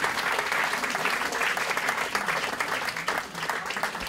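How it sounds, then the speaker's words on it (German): Carnival audience applauding at a Swiss Fasnacht rhyme-and-song evening in Willisau, a dense, steady clapping from a large crowd that stays loud throughout with a brief dip near the end. "Ein Applaus."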